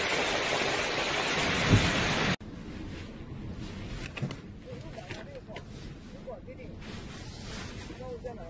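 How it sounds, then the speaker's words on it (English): Torrential rain from a severe thunderstorm battering Texas: a loud, dense hiss of downpour for the first couple of seconds, then it cuts to a quieter, muffled outdoor background with faint voices and scattered knocks. "Torrential rain and severe thunderstorm battered much of Texas"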